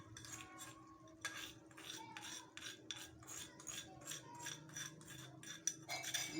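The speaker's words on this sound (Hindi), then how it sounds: "अब ये हम 1 प्याली जो दही था वो डालेंगे" A cup of yogurt is scooped and scraped into a beef karahi, with a run of close, brisk metal-on-metal scrapes and clinks repeating over a steady low background hum, no voices.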